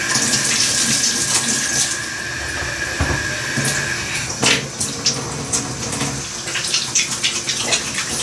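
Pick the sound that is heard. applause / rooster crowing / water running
water running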